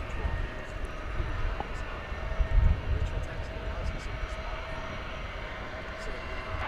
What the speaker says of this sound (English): 777-200. 1999. Another 20th century aircraft for you.